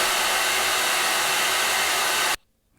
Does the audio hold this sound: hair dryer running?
yes